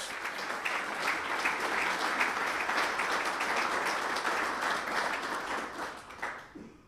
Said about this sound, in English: Give that a great round of applause.